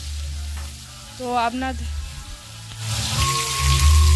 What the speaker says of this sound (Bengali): তার জন্য মাছটা আমি ভেজে নিচ্ছি